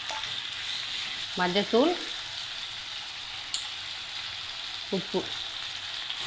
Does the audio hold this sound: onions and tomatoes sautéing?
yes